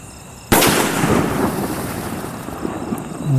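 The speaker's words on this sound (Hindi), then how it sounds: "सो गाइस ये है सोनी का स्काई शॉट फिनलैंड, इसमें लगाते हैं आग और देखते हैं कैसा रहने वाला है।" A Sony Sky Shot Finland Diwali firework bursts with a sudden loud crack, then a long rumbling, crackling tail that stays fairly steady for several seconds, with no voices.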